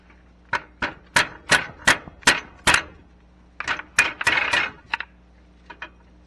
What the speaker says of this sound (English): Get the heavier hammer.